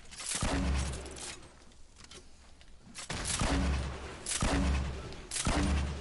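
Grenade launcher explosions in the Fortnite video game: four heavy booming blasts land in uneven succession, each with a deep low thud and a crackling burst, loud and close.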